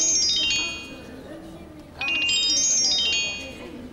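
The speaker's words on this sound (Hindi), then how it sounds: "घर से फोन आ गया फौरन।" A phone rings with a high, bright melodic tone that plays twice in short phrases. It is fairly loud over a quiet room during a scene in a Hindi-Urdu dubbed Turkish drama.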